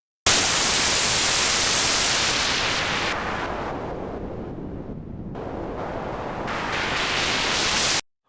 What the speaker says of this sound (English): Swiss has its very own white noise generator